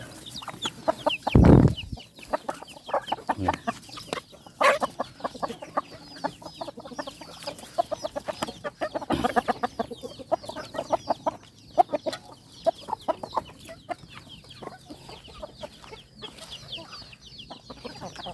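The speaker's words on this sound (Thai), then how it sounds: "เพราะว่าไก่เพิ่นจะตอดกัน" Chickens cluck softly and peck in a rapid, irregular patter of taps, steady and close throughout, with a louder knock near the start and occasional sharper clucks.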